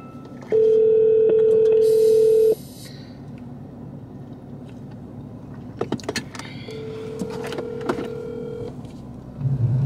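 A phone call rings unanswered in a car, with a long outgoing tone, a pause with faint rustling and clicks, then a second long ringback tone.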